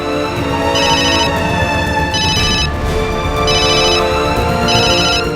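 An electronic phone ringtone plays loudly in four evenly spaced bursts over a steady musical background, with no talking.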